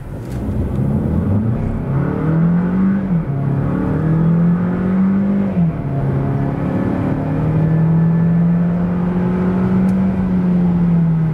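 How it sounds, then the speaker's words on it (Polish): A 2023 Mitsubishi ASX with a 1.3 liter 158 hp engine accelerating from 0 to 100 km/h, revving hard through several gear changes, each rising whine dropping briefly before climbing again, loud and close with road rumble beneath. "Zapewniają one chociażby takie przyspieszenie od 0 do setki."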